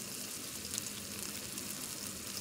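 Eggs frying in hot oil in a pan for a dhaba-style egg and spinach dish, giving a steady, dense sizzle throughout with no talking.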